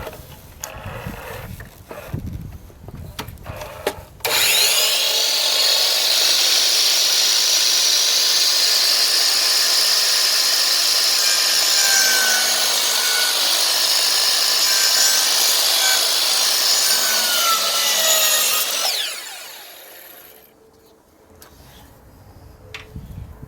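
A miter saw slices through wooden base trim at an outside-miter angle, a loud, steady high whine lasting about fifteen seconds before spinning down, with quiet workshop handling noises before and after.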